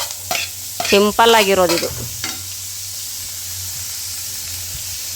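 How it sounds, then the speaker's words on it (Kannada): Onions, curry leaves and mustard seeds fry in a spoonful of hot oil for jowar rotti palya, a steady sizzle and stirring running throughout, with a short burst of talk near the start. "1 ಚಮಚ ಎಣ್ಣೆ ಹಾಕಿ, ಸಾಸಿವೆ ಹಾಕಿ ಕಾದ ನಂತರ ಈರುಳ್ಳಿ, ಕರಿಬೇವು ಹಾಕಿದ್ದೀನಿ"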